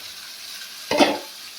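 Eggs drop into boiled potatoes frying in a pan for spicy egg curry, a brief sharp sizzle that swells and then fades back to a low hiss, with no talking.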